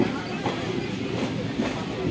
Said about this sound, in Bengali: এখন আমাদের ট্রেন ব্যান্ডেল ঢুকছে